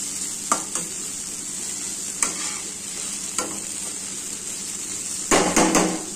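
Green chillies frying in oil in a pan for an okra stir-fry, a steady close sizzle punctuated by several sharp metallic scrapes and clinks of a spatula, with a louder clattering burst near the end.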